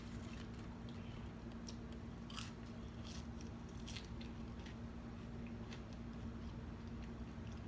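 French fries being eaten close to the mic, with soft crunches and moist chewing over a constant low hum.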